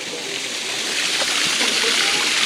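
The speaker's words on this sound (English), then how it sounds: "We've got a little waterfall there." A small waterfall at a Chiang Mai temple gives a steady, broad rushing splash of falling water, close and continuous throughout, heard alone.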